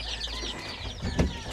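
Native chickens on a farm give soft, close clucks and chirps over a low background rumble, a few short calls within a moment.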